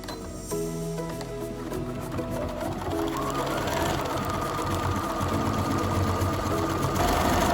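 A Bernina sewing machine with a 3A foot stitches a number 58 buttonhole in heavier thread at reduced density, a close, continuous rapid needle rhythm with rising and shifting motor pitch throughout.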